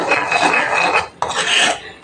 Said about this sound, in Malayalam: ഇനി നല്ലപോലെ ഇളക്കി ഒന്ന് കുറുകി വരണം.